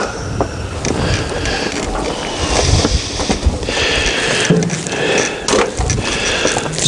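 Strong outdoor wind buffets the microphone at a cold smoker used for smoking cheese, producing a loud, continuous rumbling roar with gusty surges.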